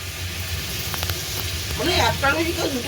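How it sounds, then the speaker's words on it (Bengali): Tilapia fish curry frying in a pan, a continuous sizzle and crackle up close with a few stirring knocks and bursts of louder spattering toward the end, no clear talking over it. "এই যে রান্না, এই হচ্ছে তেলাপিয়া মাছের"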